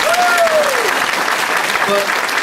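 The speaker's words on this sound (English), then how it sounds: "But the applause is great" Audience applause at a charity ride appeal, a brief burst of clapping with whistle-like tones and crowd noise mixed in, close and loud.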